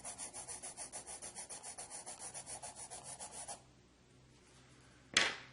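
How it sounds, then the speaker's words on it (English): A black Norica pencil scratches across paper in quick, even rhythmic strokes for several seconds, close and clear. Then a quiet pause ends with one sharp tap. "Now I can hear that pencil as it goes on that paper."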